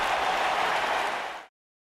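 Live wrestling crowd applauding after a one-on-one match, a dense steady wash of clapping and cheering that holds loud for about a second and a half before cutting off abruptly.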